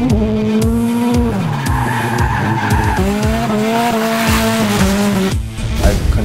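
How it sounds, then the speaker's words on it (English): The RSR Scion tC drift car slides sideways, tires squealing loudly and continuously while the engine note rises and falls through gear changes, close and dominant throughout. "I control the car in a sliding manner. It's drifting, it's going sideways."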